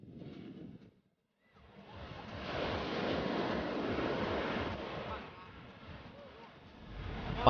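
Sea surf washes onto the shore at Pantai Ujung Batea beach in Aceh Besar, a steady broadband rush of breaking waves with wind buffeting the microphone, briefly cut to silence near the start, and no speech.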